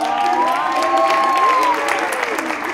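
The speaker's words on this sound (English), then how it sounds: "I want to give the round of applause for Mr. Suki Miller." An audience at a student showcase recital applauds in a steady patter of many hands throughout, while gliding tones rise and fall above it.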